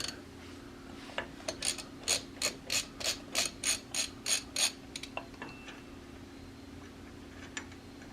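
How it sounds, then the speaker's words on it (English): A ratchet wrench with a large, roughly inch-and-a-half socket cranks loose the front hub nut on a 1982 Jeep CJ7 Limited, giving a close, steady run of about a dozen sharp clicks, then a few scattered ticks, with no talk. "Put on that nut, crank it loose."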